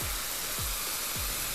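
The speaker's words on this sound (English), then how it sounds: "I'm gonna let that tomato paste cook down and brown these vegetables." Tomato paste and vegetables sizzling in a pan for pollo guisado, a continuous close frying hiss with a few soft low swooshes of stirring.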